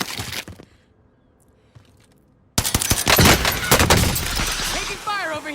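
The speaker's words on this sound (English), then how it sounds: "Taking fire over here." Call of Duty Warzone gunfire: a burst of shots, a near-silent gap, then a loud sustained barrage of sharp cracks and impacts with some shattering, close and intense.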